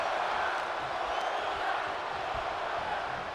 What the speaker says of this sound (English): This crowd chanting, they want to see it